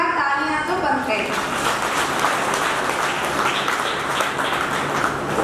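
Audience at a seminar event in Hisar bursts into loud, sustained applause filling the room, with voices faintly audible under the clapping.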